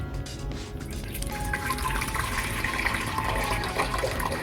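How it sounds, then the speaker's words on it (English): Water runs from a tap into a cooking pot for boiling rice, a steady splashing flow that continues throughout without pause, fairly close and moderately loud, with no voices over it. "let's take another pot and put some water in it"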